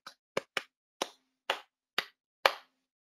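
Seven sharp hand claps beat out the rhythm of "I'm a Little Teapot" in an uneven pattern, with short and long gaps between them, crisp and close in an otherwise quiet room.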